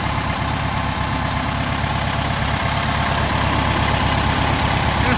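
A 1600 dual port engine in a Volkswagen split window bus idles steadily up close, a loud continuous low rumble with even throb and no talking over it.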